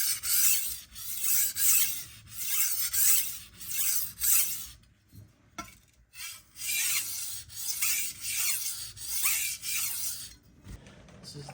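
A Ytuomzi chef knife is sharpened on a Naniwa whetstone, giving close, repeated gritty scraping strokes in bursts of about a second with brief pauses between.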